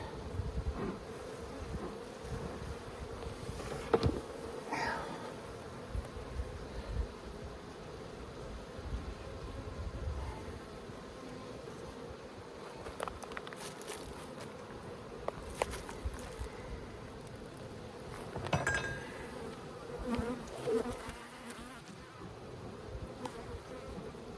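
Honey bees drone steadily throughout a hive inspection at the Holts Summit bee yard, a soft continuous buzz with occasional louder passes of single bees flying close, plus faint handling noises, with no talking.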